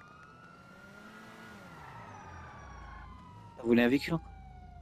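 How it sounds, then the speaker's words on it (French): In the GTA video game, police sirens wail from a distance, a steady rising and falling tone running beneath someone speaking French. "C'est quoi que j'entends, les sirènes, là?"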